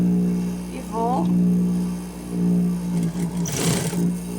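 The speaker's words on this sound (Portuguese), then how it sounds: "vou costurar o outro viés, esse mais fininho daqui" Sewing machine stitching a thin fabric bias binding strip, a steady close mechanical hum running throughout with a brief burst of faster stitching near the end, a voice speaking briefly over it.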